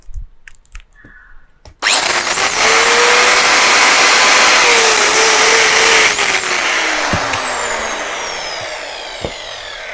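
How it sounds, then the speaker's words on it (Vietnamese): A 1200W electric cutter with a 110mm disc, rated 12,000 rpm, switches on and runs at no load with a loud, steady high-pitched whine, then winds down as the motor slows and fades. "bây giờ Minh Châu sẽ ghim điện để các bán chị tham khảo tiếng máy nha"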